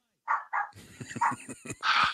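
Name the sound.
dog barking at the door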